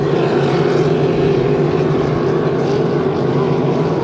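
A racing hydroplane engine at a boat race on the water at Long Sault drones steadily at high volume, a constant throaty roar with no pauses and no voices.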